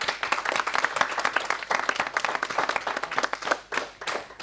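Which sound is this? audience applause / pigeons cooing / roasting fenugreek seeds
audience applause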